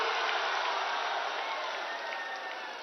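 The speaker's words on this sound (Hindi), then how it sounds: "एक बार जोरदार ताली से प्रधानमंत्री जी का स्वागत।" A crowd at a rally in Jamui, Bihar applauds to welcome the Prime Minister, a steady dense wash of clapping heard from a distance that fades slightly toward the end.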